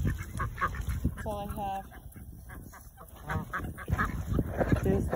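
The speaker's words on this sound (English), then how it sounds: "There's the geese." Geese honk a few times at a lakeside feeding spot, short nasal calls in a brief cluster amid rustling, with a person speaking quietly over them.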